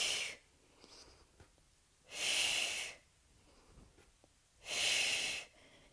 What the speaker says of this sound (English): Inhale, and then exhale.